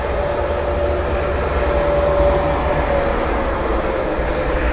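A Norfolk Southern freight coil train rumbles past close by in Northfield, Ohio, a loud, steady roar of rolling wheels with a faint high whine, no voices.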